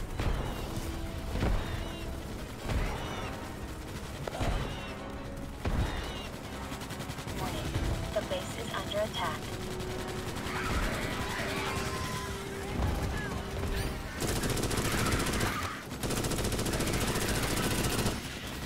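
Turret gunfire in the sci-fi shooter game Starship Troopers: Extermination, with dense rattling bursts that go on almost continuously and several heavier blasts, while voices talk intermittently.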